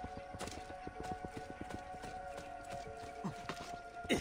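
Horse hooves clip-clop at a steady walking rhythm in the video game Assassin's Creed II, fairly faint within a busy game soundscape with a low steady hum and no talk.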